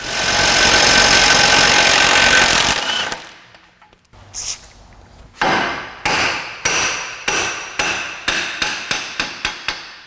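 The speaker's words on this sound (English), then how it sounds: "Be careful when you're hammering on the ends of these axles" After a loud burst of power-tool noise, a series of sharp metallic hammer blows on the end of a Honda Element's axle rings out, starting spaced and quickening into a steady run of strikes.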